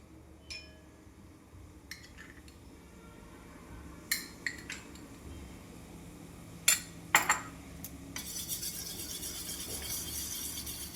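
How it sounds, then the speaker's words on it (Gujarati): A spoon taps and clinks against a bowl a few times, then settles into a steady, brisk whisking and scraping sound as buttermilk and gram flour are mixed. "બેસન એડ કરીને છાશ અને બેસનને મિક્સ કરીશું"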